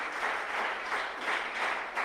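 Congregation applauding during a Sunday church service, a steady dense wash of many hands clapping close and loud for about two seconds with no talk over it.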